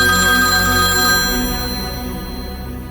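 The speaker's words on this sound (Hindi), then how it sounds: "विपुल का फोन है।" A phone ringtone plays as a loud, steady electronic tone with sustained ringing notes and then fades out after about a second, with no voices over it.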